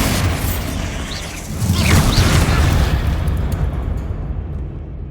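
A Bombarda explosion spell goes off in a Harry Potter video game, a deep booming blast that swells about halfway through and rumbles on before fading out, with a rising whoosh over the top.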